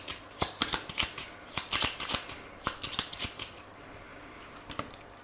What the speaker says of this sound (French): on va faire un tirage en 13 cartes avec le Pixies Outstanding Bleu Normand